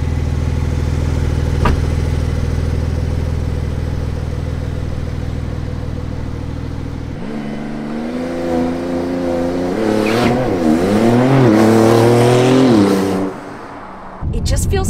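A Maserati MC20 sports car engine idles with a low rumble, then revs up and accelerates hard, its pitch rising and falling through gear changes, loud and close.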